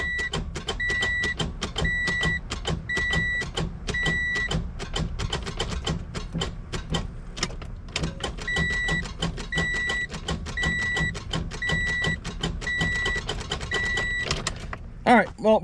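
An old Acura Integra with its original, failing starter tries to crank, a repeated rough mechanical churning under a regular beeping chime, broken by a pause in the middle and a short thump at the end.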